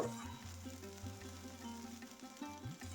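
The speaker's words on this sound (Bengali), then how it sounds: "মিডিয়াম টু লো ফ্লেমে আমি এখন কড়াইশুঁটিগুলো ভাজা ভাজা করে নেব" Steamed green peas fry in a kadai over a medium-low gas flame, making a soft, faint, even sizzle with a low hum beneath it.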